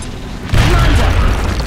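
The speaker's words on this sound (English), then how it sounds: "we're going to try and kill these two with a nice grenade" A grenade in X-Com Enemy Unknown explodes with a sudden loud, deep boom after a brief quiet lead-in, its heavy rumble holding and slowly fading.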